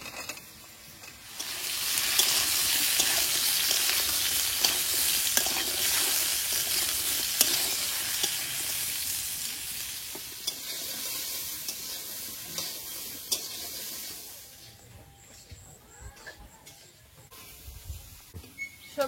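Pointed gourd and potatoes fry in hot oil, giving a loud, steady sizzle that swells after the first moments, holds for most of the stretch, then softens slightly near the end with scattered clinks and stirring scrapes.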